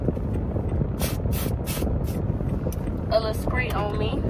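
Deodorant sprayed from an aerosol can inside a car: several short hissing spray bursts in quick succession over steady engine and cabin rumble, followed by a brief electronic chime.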